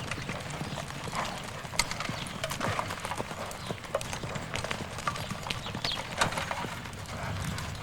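Horse hooves clip-clop in quick uneven steps on hard ground, moderately near, over a faint background murmur.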